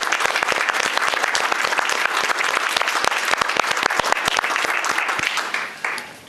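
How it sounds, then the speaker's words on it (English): Employees are applauded at a county board meeting in a council chamber. Many individual claps sound close and crisp, filling the room at a steady level before tapering off at the very end. "We could have a little round of applause for our employees."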